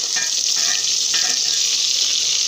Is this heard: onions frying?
yes